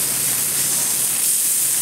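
Ono (wahoo) fish spears sizzle in a hot pan, producing a steady, close, loud hiss that holds evenly from start to finish with no voices.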